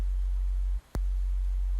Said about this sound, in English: So that's all it is. It's a sine wave.